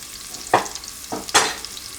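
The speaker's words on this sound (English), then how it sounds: "Then I'm going to add some onions." Onions stirred in a frying pan give brief scraping, sizzling bursts, about three short strokes over a faint hiss, close and without voices.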